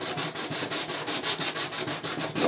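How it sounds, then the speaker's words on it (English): Rapid, rhythmic back-and-forth scratching of sandpaper rubbing over wood, about five strokes per second, close and steady with no talking. "Just going to do a little bit of sanding, make it a little bit smoother."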